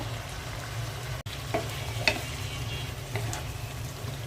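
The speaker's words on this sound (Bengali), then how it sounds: "বেগুন আলুটা ভালো করে কষিয়ে নেব" Eggplant and potato pieces sizzle steadily in hot oil for a fish curry, with a soft stirring scrape, a sharp click near the start and a few light utensil knocks over the continuous frying.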